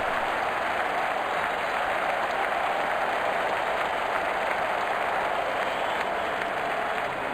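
A stadium crowd in the cricket video game Real Cricket 20 applauds in a steady, dense roar of clapping that stays loud and even from start to finish with no commentary over it.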